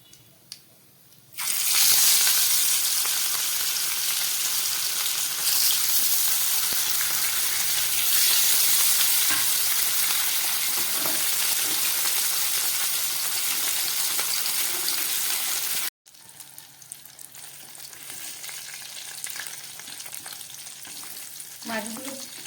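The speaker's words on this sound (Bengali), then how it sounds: "মাছগুলো একটু হালকা ভাজা করব" Rohu fish pieces frying in mustard oil over a medium flame give a loud, steady sizzle with occasional stirring, running unbroken for about fifteen seconds before cutting briefly and resuming a little quieter.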